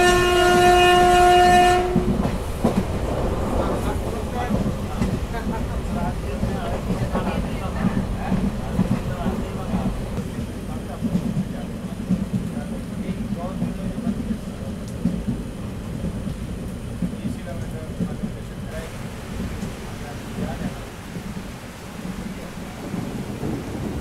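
A passenger train runs through heavy rain in West Bengal, with a steady rumble of wheels and rain roaring throughout. A train horn sounds loud and clear at the start, then the din carries on evenly at a moderate level.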